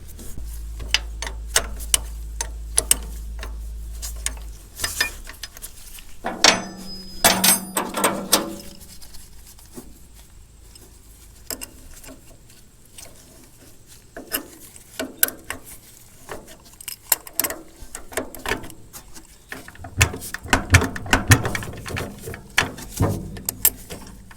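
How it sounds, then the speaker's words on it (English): Someone works with wrenches on a Caterpillar D2 crawler tractor, loosening a jam nut and turning an adjustment screw. Metallic scraping, clicking and ratcheting come in irregular bursts between pauses, close and fairly loud. "So we'll loosen up this jam nut, thread in that that adjustment screw"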